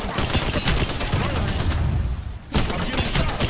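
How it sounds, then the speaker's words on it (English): Dense, continuous automatic gunfire in Apex Legends hammers close and loud as shots hit the player, breaks off for a brief lull, then resumes with full force. "I'm getting shot"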